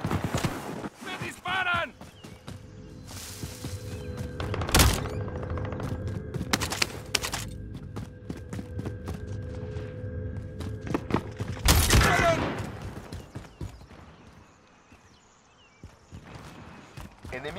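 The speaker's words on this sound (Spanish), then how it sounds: "¡Me disparan!" Gunfire in Call of Duty: Modern Warfare, with sharp bursts and single loud shots spread across a stretch of combat, plus a rapid rattling volley, amid footsteps and background noise.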